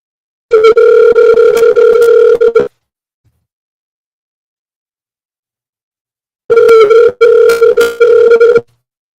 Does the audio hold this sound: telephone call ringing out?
yes